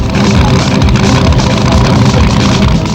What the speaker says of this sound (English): This is Goldberg in his Kearney's Ford Sierra XR8 called Animal 2 that can run times of 11 seconds thanks to its 650 horsepower engine.